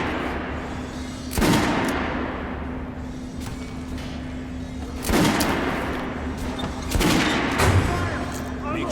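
Gunfire at a shooting range in the video game Metro Last Light: a few loud, separated bursts of shots ring out over a steady low hum, with a voice speaking between them.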